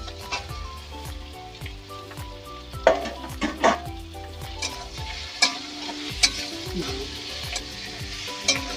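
Continuous oily sizzling as fried potatoes are stirred into spice paste for a katla fish curry, with a spatula scraping and stirring at intervals and occasional sharp clicks of metal.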